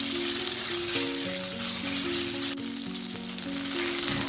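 Constant crackling sizzle of chicken pieces frying in hot oil, close and steady throughout, with a soft tonal hum underneath.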